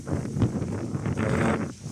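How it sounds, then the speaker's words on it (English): Steady blustery wind buffets the microphone, a continuous rumbling roar with gusts rising and falling throughout. "it's quite windy"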